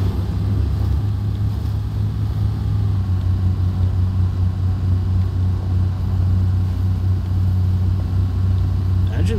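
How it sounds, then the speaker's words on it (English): A Land Rover Defender 90 in the SnowRunner off-road driving game, its engine and exhaust giving a steady low drone that runs loud and unbroken throughout. "Engine sounds are nice. I like that little bit of droning in the exhaust sound."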